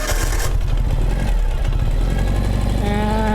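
A Ural motorcycle engine cranks and catches, then settles into a loud, close, steady idle with an even droning hum.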